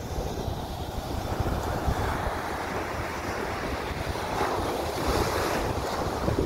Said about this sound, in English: first time seeing the waves